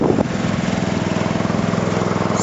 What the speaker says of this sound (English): please excuse the lawnmower in the background.